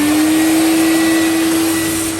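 A Hoover vacuum cleaner runs steadily while cleaning a koi pond, giving a loud, continuous motor whine with a constant hum throughout and no voices.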